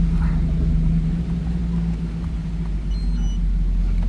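A pickup truck's engine idles as a low, steady rumble while the driver looks for a parking spot away from trees ahead of Hurricane Milton, with no talking.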